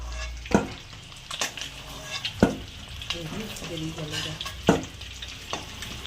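Eggs fry lightly in hot oil in a wok: a continuous close sizzle punctuated by sharp clatters of a spatula against the pan every second or so, with a faint voice-like murmur in the middle.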